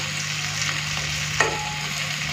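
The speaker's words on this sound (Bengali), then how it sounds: "মাছটা তো একটুখানি ভাজা ভাজা হবে তাই না যেন মাছটা না ভেঙে যায় সেইভাবে আমাকে সাবধানে একটুখানি নাড়তে হবে" Small mourala fish frying in oil give off a steady, dense close-up sizzle with a faint hiss throughout and one brief scrape of stirring near the middle, with no voices.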